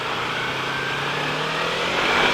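Yamaha R3 motorcycle engine with its stock exhaust silencer, a steady loud engine drone that rises slightly in revs toward the end, with no talk.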